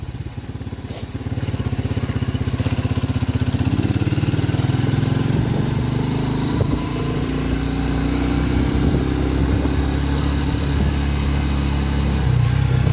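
A Lifan Lion 125cc motorcycle accelerates while being ridden, its small single-cylinder engine droning steadily and rising in pitch, loud and continuous with wind buffeting throughout.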